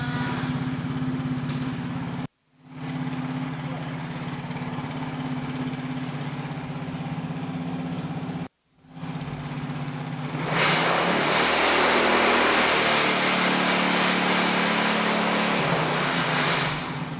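A motorcycle engine, with meter leads clipped to the battery terminals, hums steadily for several seconds and cuts out twice. Then it runs louder and rougher with a broad, rattling roar that holds to the end.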